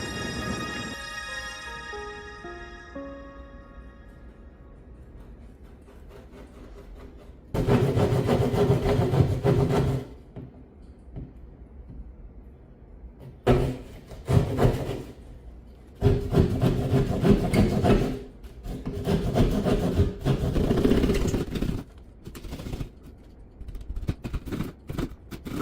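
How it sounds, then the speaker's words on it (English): A drywall saw cuts a hole for an electrical box in a wall panel. The rough rasping strokes come close up in several bursts, separated by short pauses, with no talk. "Let's get that drywall saw up."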